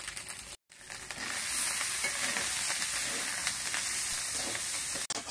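Chopped vegetables for a samosa filling frying in hot oil with turmeric, giving a steady, loud sizzle and hiss with stirring scrapes throughout, broken by a brief near-silent gap early on.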